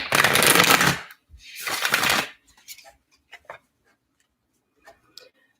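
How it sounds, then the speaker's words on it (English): Tarot cards shuffled by hand, a dense riffling rush twice in a row, loud and close, followed by scattered soft taps and clicks of cards being squared and set down. "Let me shuffle the cards some more."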